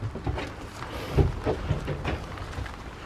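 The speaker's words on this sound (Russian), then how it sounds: "Дождик идет." Rain falling outdoors beside a dog enclosure, a soft steady patter with occasional heavier drops, low and continuous over the short stretch.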